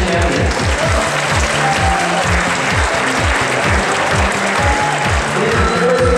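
Audience applause at the 2013 Rubik's Cube World Championship finals for the 3x3x3 one-handed champions, a loud, steady wash of clapping from a large crowd, with rhythmic thudding underneath, no speech.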